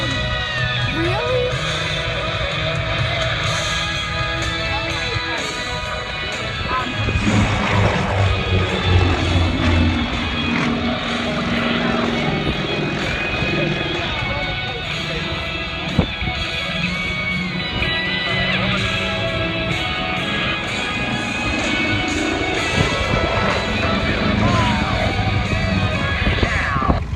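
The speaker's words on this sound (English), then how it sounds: "Let's go inside the cockpit as they approach it at over 200 miles an hour for the Twin Tigers downburst" Twin Tigers warbird aircraft diving through a smoke ring at over 200 miles an hour at an air show, heard from the cockpit as a loud, steady engine and propeller roar with wind rush, shifting in pitch as the plane maneuvers.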